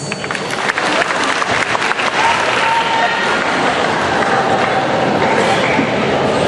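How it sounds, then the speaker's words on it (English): Audience applause for a pageant candidate being called to the stage at the Miss Bagasumbul 2013 question and answer portion, steady dense clapping throughout with crowd noise and a voice faintly underneath. "Applause, please."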